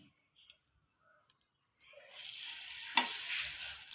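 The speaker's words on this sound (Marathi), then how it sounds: "आता मी छान आप्पे छोटे छोटे छान टाकणार आहे" Appe batter made from mixed lentils dropped into an oiled appe pan, a few faint clicks at first, then a soft, steady sizzle building close by.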